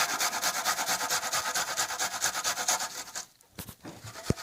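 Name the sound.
grating onion on a kitchen grater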